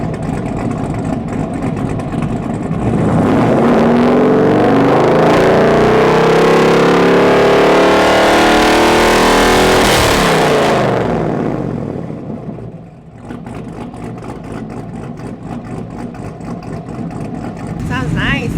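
A cammed pickup truck engine loud and close, swelling into a long rising rev before dropping back to a choppy, lumpy idle with a rhythmic lope.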